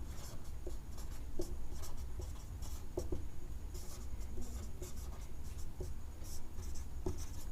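Writing during a Hindi-language class 10 maths lesson on polynomials: steady, close scratching of pen strokes with small taps between words, continuous and fairly quiet, with no speech.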